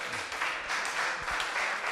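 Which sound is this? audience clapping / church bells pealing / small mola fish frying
audience clapping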